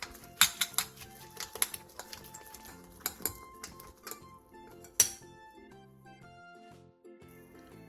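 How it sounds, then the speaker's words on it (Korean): Enoki mushrooms, chili, eggs and garlic being mixed in a bowl, with scattered clinks and taps of a utensil against the bowl at an uneven pace, some close and sharp, others soft. "볼에 팽이버섯과 청양고추, 계란 3개, 다진 마늘 3분의 1스푼, 소금 1티스푼을 넣고 골고루 섞어주세요"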